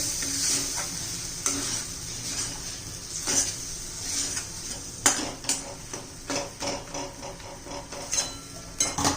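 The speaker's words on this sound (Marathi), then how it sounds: "परतून घेऊया आपण व्यवस्थित सगळे मसाले" Turmeric and coriander powder being sautéed and stirred in a pan for a capsicum dish, a soft continuous sizzle broken by repeated scraping and clinking strokes of the spoon against the metal, close and with no talking.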